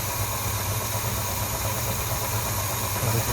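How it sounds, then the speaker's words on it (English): A big-block V8 in a 1972 Chevrolet Nova idles steadily after a carburetor install, its low, even rumble running unbroken and fairly loud throughout with a faint mechanical hum. "Finally getting the idle to settle down a little bit."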